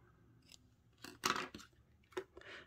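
Scissors cut a tail on a paper embellishment for a handmade Stampin' Up greeting card, giving a few close, crisp snips separated by brief pauses in a quiet room.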